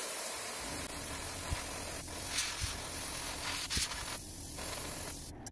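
A spray can hisses steadily as white paint goes onto a handmade fishing popper, a continuous close airy rush with a few faint taps and a break near the end.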